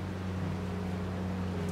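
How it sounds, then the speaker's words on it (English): A tractor idles just outside a window, a steady low engine drone with a constant hum that holds unchanged throughout, fairly loud and with no talking over it. "There's a tractor literally right outside my window."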